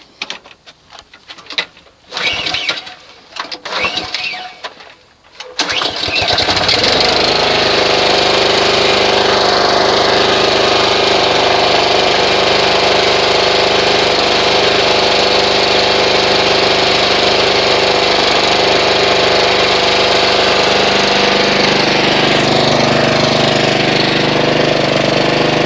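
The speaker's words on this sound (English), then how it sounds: "go ahead and test start the engine." A Honda HRX217HYA walk-behind lawn mower engine is pulled over a few times, catches, and settles into a loud, steady, close running drone that holds without a break.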